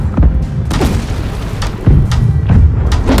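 Ship cannons booming during a naval battle in the game Blackwake, several heavy, loud thuds in quick succession over a continuous rumble.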